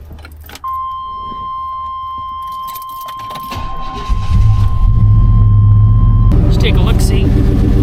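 After an exhaust gasket replacement, a car's ignition chimes steadily before the engine cranks, catches and settles into a loud, close idle, with keys jangling and someone speaking briefly.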